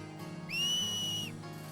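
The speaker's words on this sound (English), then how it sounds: "I think Titus kind of like teaches like how to kind of use that whistling type of thing" A single clear, steady whistle blast held for under a second in the video game Final Fantasy X, close and alone over a low background hum.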